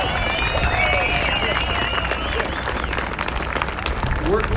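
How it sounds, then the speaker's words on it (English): An audience at a constitutional carry rally in Oklahoma applauds in a sustained, dense wash of clapping with scattered cheers and whistles. "So let's give him one more round of applause."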